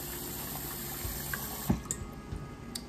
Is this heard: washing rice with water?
yes